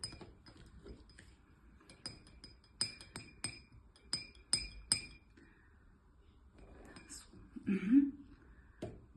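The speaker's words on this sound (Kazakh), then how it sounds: "Кәне жақсылап араластыра ғой." A spoon clinks repeatedly against a glass while honey is stirred into water, a string of sharp close taps in an uneven rhythm, with a voice and an adult speaking briefly near the end.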